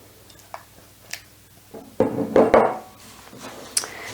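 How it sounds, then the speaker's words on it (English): Granola flakes are stirred through a runny coating in a bowl, giving soft scrapes and a short burst of clattering, rustling mixing, then a few light taps. "we want to mix it really well so that all of the flakes kind of get a little bit of this coating"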